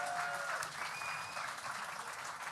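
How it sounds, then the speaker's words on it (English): An audience at the Indie Game Awards 2025 ceremony gives a round of applause, with dense, sustained clapping heard from a slight distance for a few seconds. "put your hands together one more time for fun"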